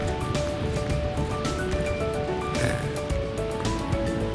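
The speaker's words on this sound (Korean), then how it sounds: "시원한 파도 소리도" Ocean waves wash against a rocky coast along the West Coast Trail, a steady broadband surf rush heard at moderate distance with a few swells rising, no talk.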